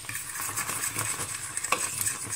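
A spoon stirs thick cooking caramel around the sides of a pan, giving soft scraping strokes and faint bubbling sizzle, close and fairly quiet with no voices.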